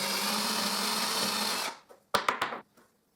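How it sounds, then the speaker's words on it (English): A power drill with a 5 mm bit whirs steadily for under two seconds, enlarging screw guide holes in a beam compass part, then stops, followed by a few sharp clicks and knocks. "So I will use a 5 mm drill bit to enlarge the top half of both"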